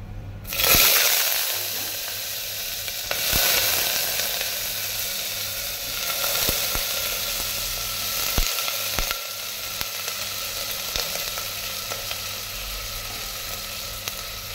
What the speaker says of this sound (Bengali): এবার আমি এলাচ, লবঙ্গ, দারচিনিটা দিয়ে দিলাম